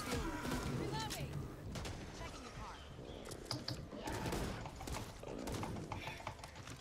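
Gunfire in Back 4 Blood on PS5, shots fired through a wall in an abandoned area, with sharp bursts scattered across a busy mix and people talking over them.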